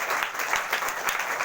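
A church congregation at a Sunday service in a Hindi-speaking ministry breaks into applause, a brief burst of many hands clapping at moderate volume with no talking over it.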